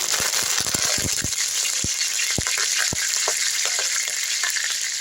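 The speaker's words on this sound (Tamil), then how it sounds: "ஒரு ஐம்பது கிராம் நல்லெண்ணெய் ஊற்றிக்கலாம் இதில் வந்து கருவேப்பிலை எடுத்து போட்டுக்கலாம்" Curry leaves sizzle in hot sesame oil, a steady loud crackling hiss close up, punctuated by sharp pops and spits throughout, with no talking.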